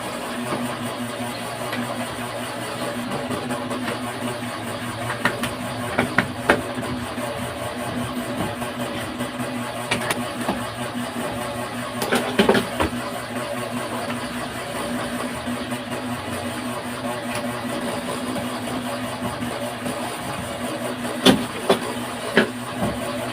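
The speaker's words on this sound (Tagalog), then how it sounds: "Medyo maingay yung electric fan" A noisy electric fan drones continuously nearby during electrical switch wiring work, a steady broadband whir with a low hum, broken by a few faint clicks and taps.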